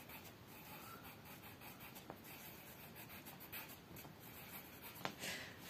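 Pen or chalk writing a single French word, a soft continuous scratching rub with a couple of faint taps, quiet and close against steady background hiss, no voices.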